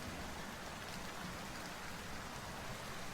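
Steady broadband rain hiss from a spooky autumn video game, continuous and even throughout, with no voices or other sounds standing out.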